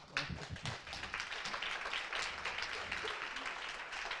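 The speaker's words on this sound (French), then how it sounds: "vous avez le droit de l'applaudir" Conference attendees at a marketing and sales workshop session applaud briefly, a scattered, moderately faint round of clapping that builds after a few louder initial claps.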